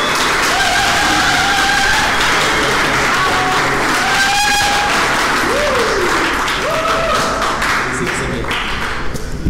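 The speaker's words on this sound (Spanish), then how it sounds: "le damos un caluroso aplauso" Warm applause from a church congregation welcoming a visiting pastor, steady dense clapping filling the whole stretch with a few whoops and voices rising above it.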